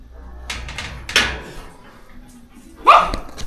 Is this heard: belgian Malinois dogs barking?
yes